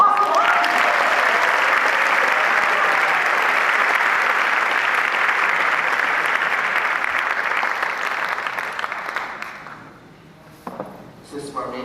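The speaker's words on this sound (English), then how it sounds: "let's give them another round of applause" A crowd at a 2002 GAPA runway show breaks into loud, sustained applause that rolls on for several seconds, then thins into scattered claps and fades near the end.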